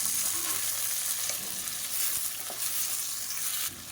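Radish and tomato sauté in oil for a kurma, giving off a steady, dense sizzle with a few soft stirring knocks, close and continuous throughout with no voices.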